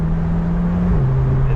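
A Chevrolet C8 Corvette drives along with a steady, close engine drone whose pitch holds and then drops slightly as it shifts, a continuous loud hum with road noise throughout.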